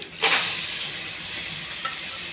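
Soaked chana dal and ridge gourd hit hot oil in a pan, setting off a loud burst of sizzling that settles into a steady, close frying hiss with no voices.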